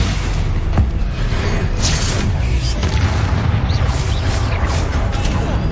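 A Stupefy spell cast in Hogwarts Legacy, with sharp magical bursts and booming impacts over a dense, continuous combat soundscape, several distinct cracks and whooshes spread through the stretch.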